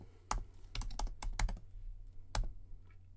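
Keys clack on a computer keyboard in short quick bursts, a few close taps clustered together, then a pause and a single last tap, fairly quiet with no voice.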